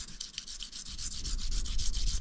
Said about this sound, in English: I'm just gonna sand it down